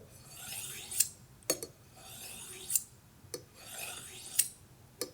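A kitchen knife drawn repeatedly along a honing steel at a constant angle, giving four rhythmic, close rasping strokes, each ending in a bright metallic ring and a sharp tap.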